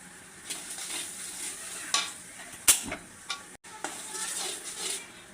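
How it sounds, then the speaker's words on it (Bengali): Ginger, garlic, cumin paste and spices frying in a pan with a steady soft sizzle, broken by scraping stirs and a few sharp clinks of a utensil against the pan. "এখন হচ্ছে মশলাগুলো আমি ভেজে নেব একে একে"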